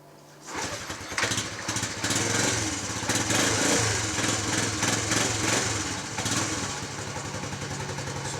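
A small Postie motorbike engine is started after the petrol is switched on, then settles into a loud, close, steady putter at idle, with a faint whine rising near the end.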